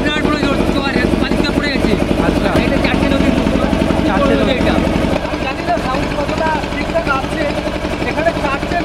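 A motor boat engine drones steadily while the boat travels on a river in the Sundarbans, a loud continuous hum running throughout under people talking.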